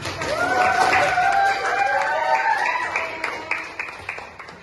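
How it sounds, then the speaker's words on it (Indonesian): Students in a classroom let out a brief burst of voices, then clap in scattered, uneven bursts that thin out toward the end. "kita semangat, kita tepuk tangan"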